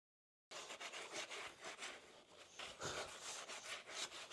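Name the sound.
scraping stuck wood off a van floor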